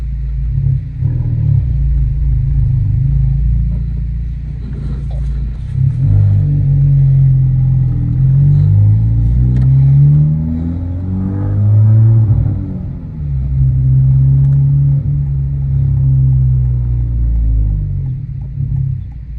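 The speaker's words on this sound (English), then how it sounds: "Just pulling out from the driveway." An FL5 car engine rumbles close by, revving up and down as the car pulls out of a driveway, loud and steady with no talk.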